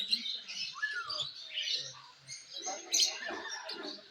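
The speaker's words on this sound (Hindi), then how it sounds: "ये डक्स हैं बेसिकली।" Ducks and other birds at a bird park in Taif, a busy mix of chirps and squeaky calls close by, with faint voices in the background.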